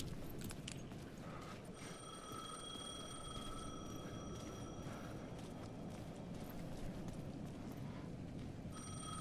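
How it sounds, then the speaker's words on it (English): A payphone rings in Alan Wake 2, a steady electronic ring held for several seconds that cuts off and starts again near the end, over a dense, low, rumbling ambience. "The payphone was ringing again."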